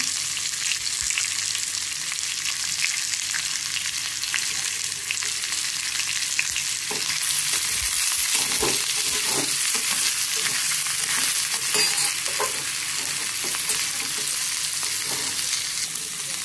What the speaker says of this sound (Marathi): कांदा घालायचा भाजायला